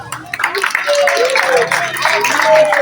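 Applause at a school emulation ceremony as fifth- and fourth-place pupils return to their seats, a steady wash of hand claps from the audience with voices and tonal sounds mixed in.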